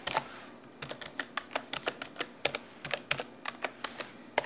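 Typing on a computer keyboard during accounting data entry, a quick irregular run of crisp close key clicks with soft gaps between bursts, no speech.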